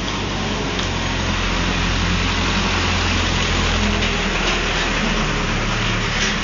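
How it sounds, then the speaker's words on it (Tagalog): A truck engine rumbles on a road in Baguio, a loud, steady, close low drone that holds evenly for several seconds with no talking. "May truck papunta."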